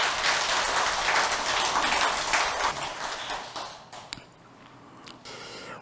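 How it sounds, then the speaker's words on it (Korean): Applause from a congregation at a Sunday Buddhist service in a temple hall in Jeonbuk, steady and dense for about three seconds, then thinning out and fading to scattered claps. "박수 쳐줘야 되지 않겠어?"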